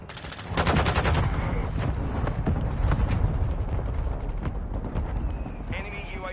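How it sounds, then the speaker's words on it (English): Modern Warfare 2 hardpoint match with mortar strike explosions and bursts of rapid gunfire, dense and loud, with a voice talking over part of it. "Hostile mortar strike incoming"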